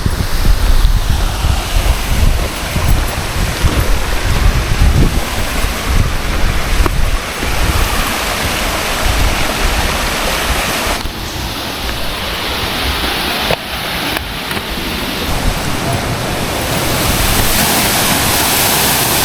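Continuous roaring rush of Bulalakaw Falls in Bagulin, La Union, fills the scene, loud and close, with gusts of wind buffeting the microphone and no voices.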